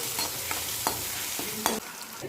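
Spices fry in a pan over a low flame while being stirred, producing a steady sizzle broken by a few soft scraping knocks.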